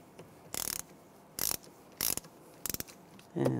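A hand ratchet snugs a brake bracket bolt on the rear brakes of a 2006–2009 Mercedes-Benz E350. Short bursts of close, crisp clicking come five times, with brief pauses between them.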